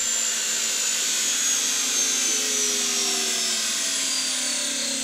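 Electric go-kart conversion running at full throttle, a loud steady high-pitched motor whine with a gently falling pitch as it passes, carrying on without a break and with no talk over it.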